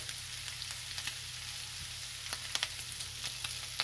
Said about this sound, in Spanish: Y ahorita agregamos el aceite y mezclamos.